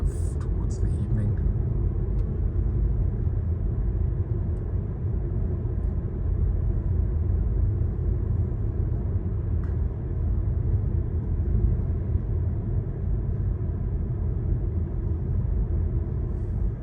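Road rumble and tyre noise from a Volvo EX30 electric car cruising through the Karoo toward evening, heard as a steady low interior drone with no engine note throughout.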